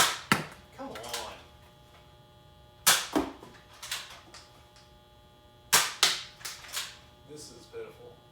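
A Nerf Trailblazer RD-8 blaster fires foam darts in three separate shots a few seconds apart. Each is a sharp, close pop, followed by fainter clicks and knocks as the blaster is handled.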